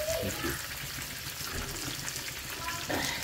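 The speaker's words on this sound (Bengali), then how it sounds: "পেঁয়াজ ভালোভাবে ভেজে নিতে হবে।" Chopped onions frying in butter in a wok, a steady soft sizzle and hiss running through at low level with faint stirring, no talk.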